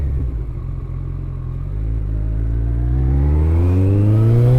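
Kawasaki ZX-14R motorcycle accelerating while filtering through traffic, a loud close engine note rising steadily in pitch as the revs climb, with no talking.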